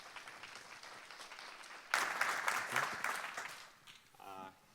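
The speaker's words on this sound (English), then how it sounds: "A round of applause," Applause breaks out from an audience at a talk, loud and sustained for a couple of seconds before fading, with some chatter around it.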